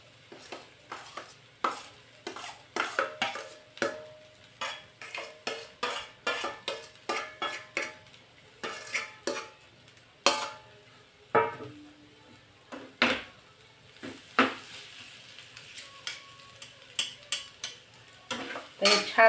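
A spoon scrapes and clinks against a pan while mashed potato and sweet potato filling is stirred with chilies in oil, making repeated close, rhythmic metallic taps and scrapes with no talking.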